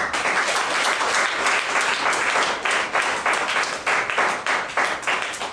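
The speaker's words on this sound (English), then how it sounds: "Please give a round of applause." A full round of applause from an audience at a talk about solutions to ragging, loud and sustained, with dense continuous clapping filling the whole stretch and no speech over it.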